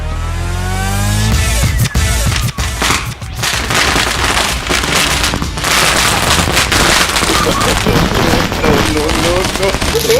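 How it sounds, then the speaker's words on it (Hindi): A special Diwali firecracker goes off outdoors with a dense, continuous barrage of loud crackling bangs and booms that lasts throughout, with voices shouting underneath. "इस बार ये पटाखा चलाएंगे उसके बाहर। ये बहुत ही स्पेशल पटाखा है,"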